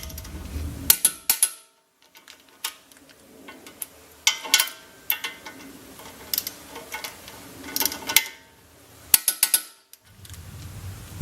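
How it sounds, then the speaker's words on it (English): A wrench torques 10 millimeter bolts on Baer brake calipers fitted to a Dodge Challenger, giving bursts of quick metallic ratchet clicks, close and fairly loud, separated by short silent pauses. "Torque the bolts to 85 foot-pounds."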